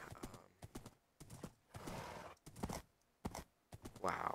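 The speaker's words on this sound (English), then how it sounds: "I'm gonna leave you for this horse." Horse hooves clip-clopping in a Minecraft-style survival game, a brisk rhythmic run of hoof clops broken by short pauses, with a whinny near the end.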